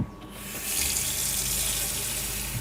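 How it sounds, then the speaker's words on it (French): Water runs from a hot-cold mixer tap into a small sink in a Peugeot Boxer H2L3 camper van, a steady hiss that swells after a brief start and continues close and loud, with no talking. "Ici, un évier, toujours les mêmes, on les adore, les 40 sur 40 sur presque 40, avec un robinet mitigeur chaud-froid."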